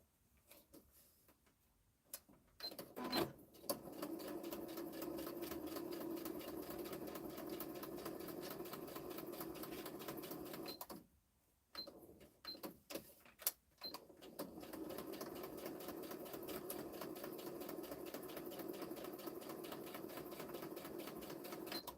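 A sewing machine stitches around the top corners of a gift bag, running in two long steady bursts of rapid ticking whirr separated by brief pauses and a few clicks, close and clear.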